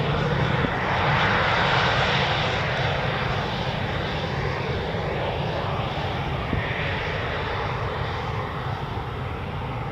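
A Eurofighter Typhoon jet taxis past at RAF Coningsby, a steady loud engine whine and rush close by, with no talk.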